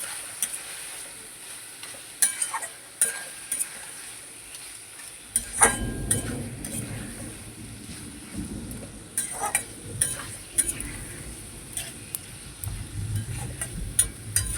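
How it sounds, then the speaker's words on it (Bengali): Chicken pieces for a Bengali chicken and potato curry being sautéed in a pan: a steady sizzle that thickens after a few seconds, with repeated scraping and clinking stirs of a spatula, close up, no voices. "এবারে হচ্ছে মাংসটাকে ভালো করে কষার পালা"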